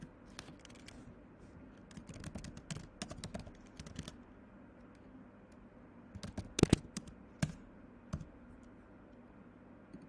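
Code is typed on a computer keyboard in quick, irregular clusters of soft key clicks, close and quiet, with a few sharper taps.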